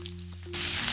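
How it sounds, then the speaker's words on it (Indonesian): Garlic and shallots hit hot oil in a wok and burst into a loud, steady sizzle about halfway through, after a quieter stretch with faint clinks and a low hum. "Goreng bawang putih dan bawang merah hingga harum dan berubah warna ya."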